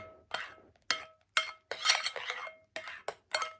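A slime mix of glue and shaving foam is stirred in a container, giving a series of sharp clinking taps and scrapes from the utensil in an irregular rhythm, close and fairly quiet.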